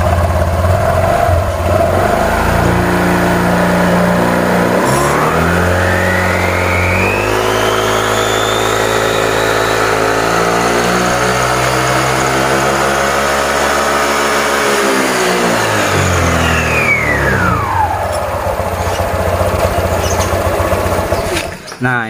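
A Honda Vario 125 scooter with an upgraded CVT starts up and revs, its engine note climbing to a high, sustained whine before dropping back down, loud and close, with no speech over it.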